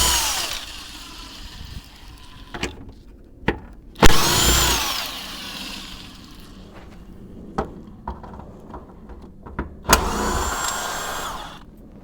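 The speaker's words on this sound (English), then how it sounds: "remove all 8 bolts so we can remove that tire carrier" Bolts come out of a Jeep JK rear tire carrier in several loud mechanical bursts of a few seconds each, separated by quieter clanks and pauses, all close at hand.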